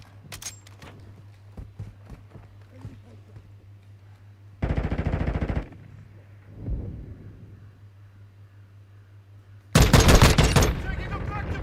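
Automatic weapons in the video game Call of Duty Modern Warfare II fire in loud, rapid bursts, one mid-clip and another harsher near the end, between scattered footsteps and quieter sounds, with in-game voices briefly calling out.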